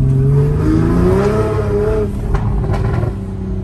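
A car's wheels spin on a rain-soaked road as the engine revs loudly and close, its pitch rising and wavering with the slipping tyres before settling into a steadier rough drone.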